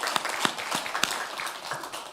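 A congregation in a Korean church service claps along in praise, a fairly soft, steady rhythmic clapping with a few sharper claps over the short stretch.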